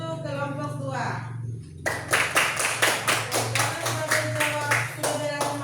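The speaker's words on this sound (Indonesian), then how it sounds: "tepuk tangan dulu untuk kelompok 2" Classroom applause for a student group: a voice talks first, then many hands break into rapid, rhythmic clapping that carries on steadily, close and fairly loud.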